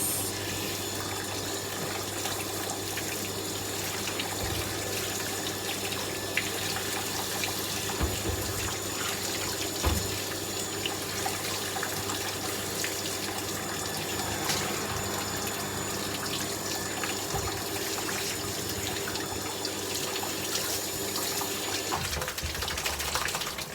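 Steady running water gushes continuously while a dog is bathed at home, a constant close wash of flowing tap water with a brief dip near the end.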